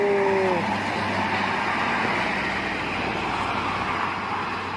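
Cars speeding past on a busy toll road, a continuous wash of tire and engine roar from fast traffic, with a brief horn tone at the start.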